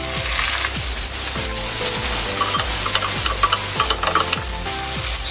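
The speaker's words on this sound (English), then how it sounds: "I will now go in with my tomatoes." Tomatoes hit a pan of well-cooked frying onions, giving a steady sizzle with repeated scraping strokes of stirring throughout, close and continuous with no voices.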